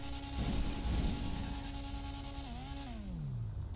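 A damaged, smoking car engine in GTA drones with a steady strained tone that sags and drops in pitch near the end as it winds down, heard close over background game noise.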